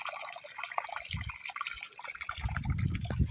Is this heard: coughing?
no